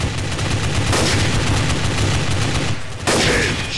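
Rapid bursts of gunfire from Garry's Mod Trouble in Terrorist Town, a dense, loud volley of shots rattling continuously with a brief gap before firing resumes.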